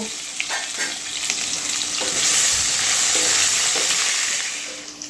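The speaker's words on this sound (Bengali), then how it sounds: "পেঁয়াজ দিয়ে আলুটাকে একটু ভাজা ভাজা মতো করব" Potatoes and onions sizzle loudly in a hot pan, a steady crackling hiss with a few scrapes of stirring and no talking.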